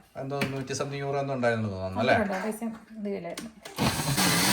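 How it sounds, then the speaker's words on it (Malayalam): A kitchen mixer grinder bursts into a loud whirring grind near the end as ingredients are ground into a paste, following a stretch of close talking. "നല്ല പേസ്റ്റ് ആയിട്ട് നമ്മൾ അരച്ചെടുക്കുക കേട്ടോ"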